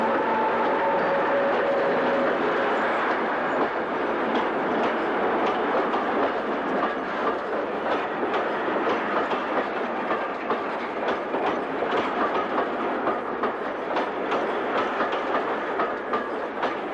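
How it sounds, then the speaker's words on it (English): Electric locomotive 86236 brings a train to a stop on a line toward Manchester, rhythmic wheel clicks over rail joints and a steady rolling rumble continuing at close range, without speech. "86236 stops on a train to Manchester"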